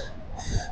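A cyclist gives a short, close burst of heavy panting, breathless huffs out on a bike ride, with a faint hum of wind and road behind it.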